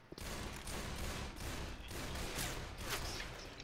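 Desert Eagle pistol fire in the zombie shooter Left 4 Dead, a run of loud, closely spaced gunshots over a dense, continuous game soundscape with no clear pauses.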